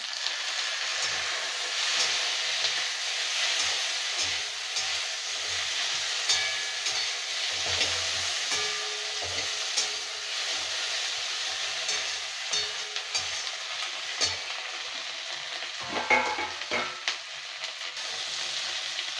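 Small chopped tomatoes fry in a pan for a village-style Bengali prawn dish, making a loud, continuous hiss of sizzling oil with soft stirring scrapes throughout and a few sharper clicks near the end.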